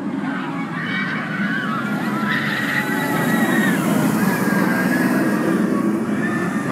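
The Fury 325 giga roller coaster at Carowinds thunders overhead as a steady, loud rumble with faint metallic whines riding on top, holding at full strength throughout.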